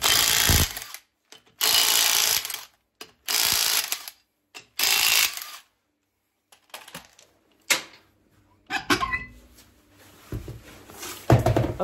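Bursts of ratchet clicking as a wheel comes off a Renault Clio 2, several loud one-second runs of rapid ratcheting separated by pauses, then quieter clunks and metallic handling of parts.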